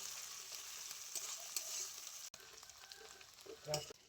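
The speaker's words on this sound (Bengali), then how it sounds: "পেঁয়াজ আদা রসুন খুব ভালো করে ভেজে নিয়েছি" Onion, ginger and garlic frying in a pan, a steady close sizzle with stirring scrapes, briefly cut off partway and then resuming with clattering stirs.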